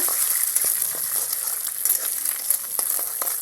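Two eggs fry in hot oil in a pan, giving a steady close sizzle and crackle with small pops and spatters throughout.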